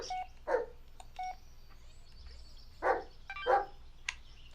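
Retro phone in the Blair Witch video game dialing, a series of short beeping tones spaced irregularly over a faint low hum, with a dog barking in bursts between them.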